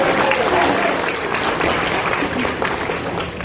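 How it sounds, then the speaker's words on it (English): An anime convention audience claps in a dense, steady round of applause, loud and continuous throughout with no voices standing out. "big, huge round of applause for Staples"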